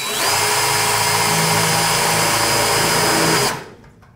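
Power drill driving a screw into a light fixture while converting fluorescent lights to LED, a loud, close, steady whine for about three and a half seconds that cuts off abruptly.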